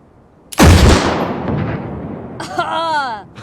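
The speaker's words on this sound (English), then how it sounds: "Tommy and Ellie shooting the infected scene." A gunshot from a scene of The Last of Us TV series booms loudly, followed by a long reverberant decay, and then a voice speaks over the fading echo.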